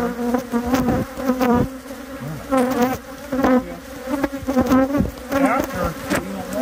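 Bees buzz loudly and close up at an active hive, a dense drone with individual insects swelling and fading as they pass near.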